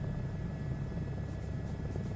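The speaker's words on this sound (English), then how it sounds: "let the gentle hum of the helicopter lull you to sleep" A helicopter in a flight video game gives off a steady, dense engine hum and rotor drone, continuous and even with no talk over it.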